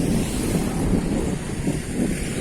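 Wind blows steadily outdoors on a hillside near Pazar, a continuous broad rushing buffet against the microphone with slight swells, no voices.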